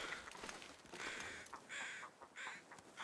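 Several crows in the video game The Long Dark caw in harsh, repeated bursts against a steady background hiss, fairly distant and moderately loud, with no talking.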